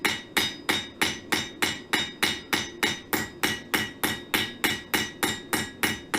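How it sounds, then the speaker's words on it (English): A hammer strikes steadily on square steel bar being forged into a cross, about three sharp ringing blows per second, loud and close, with no talking. "I just want to hammer every little area"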